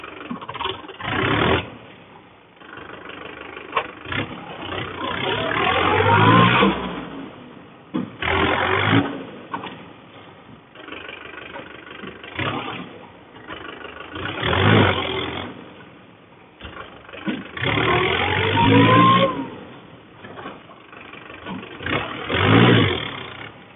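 A Mahindra 575 4WD tractor's diesel engine runs nearby with four-wheel drive engaged, rising in several repeated revving surges and settling back to a rumbling idle between them.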